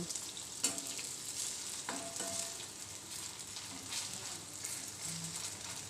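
Fritters (bora) fry in hot oil with a continuous close bubbling sizzle, broken by a few sharp taps and scrapes of a spatula turning them over.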